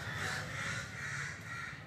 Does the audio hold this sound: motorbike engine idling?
no